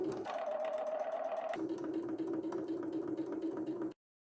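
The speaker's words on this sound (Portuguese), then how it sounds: "vou colocar aqui e passar um pezinho de máquina, com retrocesso no início e retrocesso no final" Sewing machine stitching a fabric strip with a backstitch at stitch length 2.5 for a patchwork pot holder, a steady close mechanical whir whose pitch drops partway through, running alone and then stopping abruptly.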